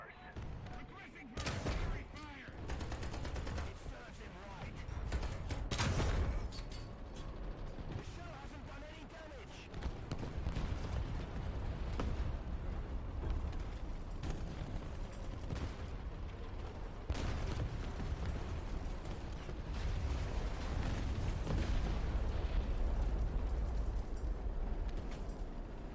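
War Thunder battle with artillery fire and explosions: heavy booms and bursts of gunfire crack out repeatedly over a rumbling background while a player talks throughout.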